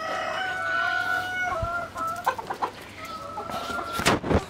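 Chickens cluck and crow inside a coop that is being torn down, a rooster's call and steady hen clucking near and fairly loud, with a few knocks and a louder burst of movement near the end.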